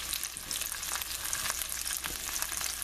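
Halved shrimp fry on a stove beside a boiling lobster stock, making a steady, dense sizzle with faint crackles. It is soft and continuous, and no one talks.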